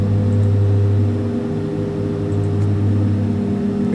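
Cessna 310 twin-engine drone in the X-Plane 11 flight simulator, a steady loud low hum with a strong tonal throb that dips slightly partway through, heard alone.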